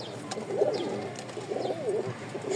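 Male Rajshahi Giribaz pigeon of a light-coloured pair cooing in two soft, rolling phrases, close by with faint background noise and no talk.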